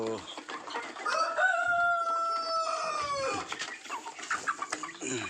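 A rooster crows loudly and close by, a long drawn-out call, while hens, Brahma chickens and turkeys cluck around it on a poultry farm and a voice murmurs faintly underneath.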